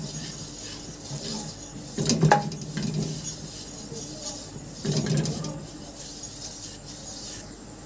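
Flour frying in a pan over a low flame for white sauce, with a spoon scraping and clinking against the metal in a couple of louder bursts over a steady soft sizzle.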